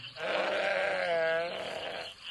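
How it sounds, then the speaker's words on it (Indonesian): A frightened sheep bleats in one long, wavering, quavering cry that swells and then fades, close and clear with no talk over it. "dari kejauhan ia bisa mendengar suara dombanya ketakutan"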